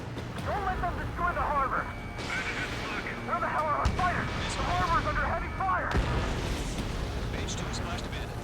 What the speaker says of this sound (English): The harbor's under heavy fire.